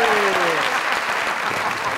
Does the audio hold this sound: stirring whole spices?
no